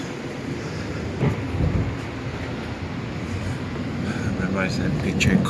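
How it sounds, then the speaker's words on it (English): A passenger train rumbles steadily nearby with low clatter and faint squeaks, under a continuous ambient din. "There it is, the train has come. So we're gonna hop into the train now."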